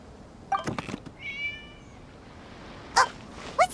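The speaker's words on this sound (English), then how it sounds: "It was just a cat." A cat meows in Genshin Impact, a few short separate calls near the start, then two brief chirpy meows toward the end against a quiet background.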